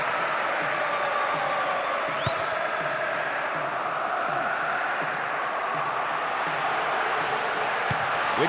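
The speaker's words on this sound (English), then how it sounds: "A section of the crowd is urging them to shoot" Stadium crowd in Winning Eleven 2008 football game, a steady roar of massed voices and applause urging players on, continuous and fairly loud throughout.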